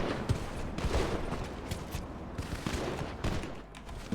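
Rapid bursts of video game gunfire crackle in quick succession, with scattered single shots between the volleys, in the roleplay server Free Dom Town.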